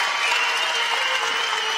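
A large crowd at a junior men's recurve archery gold medal match in Nîmes applauds steadily, a dense, continuous wash of clapping and cheering filling the whole moment at close, even loudness.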